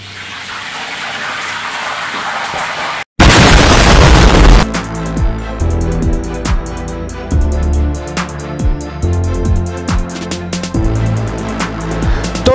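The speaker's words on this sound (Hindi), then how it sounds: "अब इनको फ्राई करता है।" Spring rolls drop into hot oil with a sudden loud gush, then fry with a dense, continuous sizzle and bubbling crackle. Softer kitchen noise comes before, with no talking.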